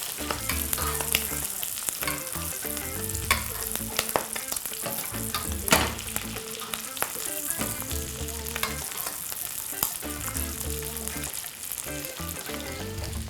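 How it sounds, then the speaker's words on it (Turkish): A T-bone steak fries in butter and is flipped and turned, with loud close sizzling, spattering crackles and occasional scraping of the pan throughout. "Ara ara bu şekilde döndürerek etimizi güzelce tereyağın içerisinde banyo yaptırıyoruz."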